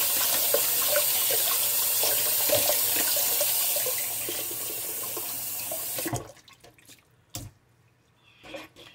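A kitchen tap runs steadily for about six seconds during rinsing, a loud close splashing stream that then stops, followed by a few faint drips and clatters.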